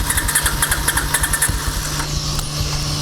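Motorcycle engine starting and settling into a steady idle at a car wash, close and fairly loud, with a regular pulsing throb under a high whine.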